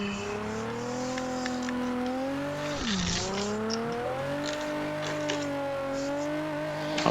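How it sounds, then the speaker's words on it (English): Car engine note bends and swoops through shifting revs as a car drifts and spins out on the Nikko circuit in a racing video game, tire squeal mixed in, steady and close throughout with no talk. "I am throwing this car way too much and just spinning a lot"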